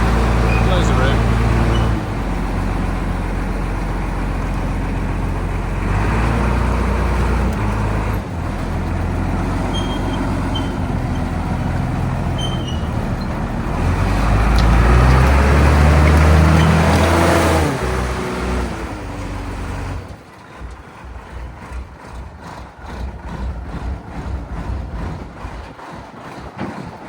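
A restored M5 gun tractor, a WWII tracked military vehicle, with its engine running loud and rumbling as it drives out, rising to a heavy roar then dropping to a quieter idle near the end.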